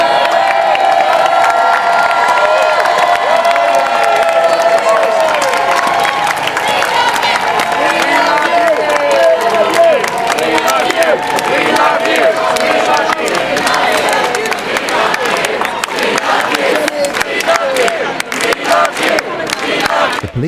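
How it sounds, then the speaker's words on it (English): A street crowd at an Extinction Rebellion occupation in London claps and cheers for a released protester, with sustained applause, whoops and shouts from many people, loud and close throughout. "Can we have a big round of applause for Jenny?"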